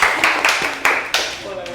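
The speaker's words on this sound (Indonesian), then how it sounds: "Beri tepuk tangan dulu dong." A handful of sharp hand claps ring out in a classroom during a microteaching lesson, close and loud, arriving in a loose uneven rhythm with no talk over them.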